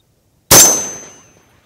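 A single sharp shot from an M&P-10 rifle with an immediate metallic ring from a steel target, loud and close, the clang decaying over about a second against silence.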